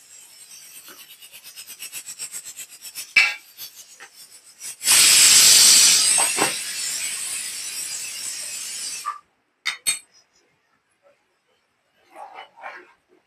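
Soaked dry coconut paste drops into a hot pan and sizzles loudly for several seconds before easing off, with scraping and clinking of utensils before and after, while a mutton dish is cooked at home.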